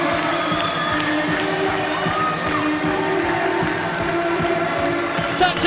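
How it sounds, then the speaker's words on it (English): Arena crowd at an Ayr Scottish Eagles ice hockey game roars and cheers continuously after a home goal against AK Bars Kazan, a dense, steady wall of noise with some shouting voices mixed in. "The crowd on their feet here, loving that one."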